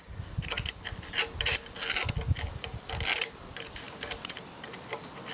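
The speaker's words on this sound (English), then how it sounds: "Oh, that front bearing is noisy." A noisy front tapered roller bearing in a short stroke pump being turned by hand, giving rough, repeated grinding and ratcheting scrapes in an uneven rhythm.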